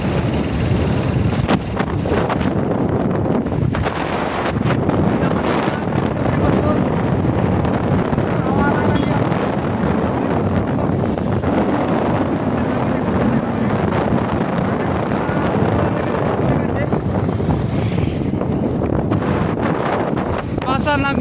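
Loud, continuous wind buffeting a microphone from the back of a moving Golo pickup on a winding road, a steady roar with gusty low rumble throughout, with a voice talking over it.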